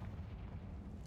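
A Confringo spell blast in a Harry Potter video game, heard as a dense, low rumbling boom that fills the short moment loudly and continuously with no talk.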